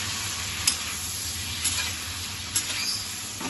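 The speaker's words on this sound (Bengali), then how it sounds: "এইবারে চিংড়ি মাছগুলো দিয়ে দিলাম।" Raw prawns fry in a hot pan with salt for a Bengali dish, giving a close, steady hiss of sizzling oil with a few sharp crackles and pops.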